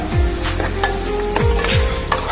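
Small-cut chicken stirred into a Kasargod-style chicken curry in a pan, a spoon scraping and knocking against the metal in quick strokes over a continuous close sizzle of frying.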